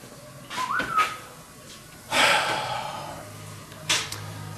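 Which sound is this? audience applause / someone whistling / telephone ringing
someone whistling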